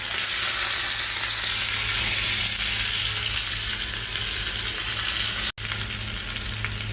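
Curry leaves and shallots sizzle in hot coconut oil for a fish curry, a loud, even hiss that continues without a break except for one abrupt split-second dropout, close by and with no speech.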